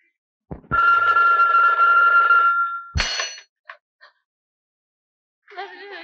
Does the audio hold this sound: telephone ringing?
yes